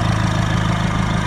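A Renault 1.5 dCi diesel engine with its EGR valve stuck open runs at a steady, loud, close drone, with a rough, even clatter and no clear rise in revs over this short stretch.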